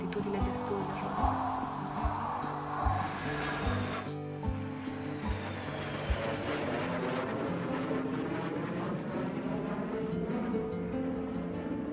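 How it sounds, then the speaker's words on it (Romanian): Low-flying military aircraft over Virginia Beach, a near steady broad engine roar filling the whole stretch with a shifting pitch that dips around midway, dense and moderately loud without a clear pass-by peak. "elicopterele și avioanele militare patrulau des la o altitudine destul de joasă"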